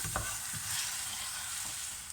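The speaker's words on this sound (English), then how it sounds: "what we're going to do now is just fry that through" Lamb shank nihari frying in a pan, a steady close sizzle with stirring scrapes running throughout, no voices.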